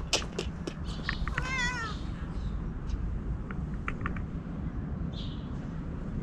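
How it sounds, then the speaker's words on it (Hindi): A playful cat near the Char Minar in Bukhara, Uzbekistan, gives a short wavering meow over steady outdoor background noise, with a few faint bird chirps around it. "खेलती हुई बिल्ली"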